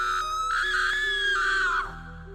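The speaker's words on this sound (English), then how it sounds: "Horrid screams." A single high, piercing scream in an audio drama, sustained for nearly two seconds before dropping off sharply, set over a faint low hum.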